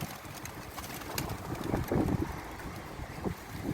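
Soft, low cooing of a pigeon, half buried in gusty wind buffeting the microphone.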